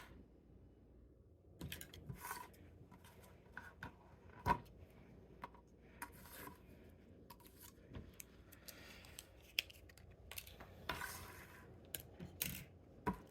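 Scissors cutting off a piece of material for a homemade Valentine's Day decoration, a quiet series of irregular snips and crisp clicks close by, no voices.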